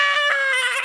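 A person screams on cue for a skydiving scene: one short, loud, high-pitched scream, close and on its own.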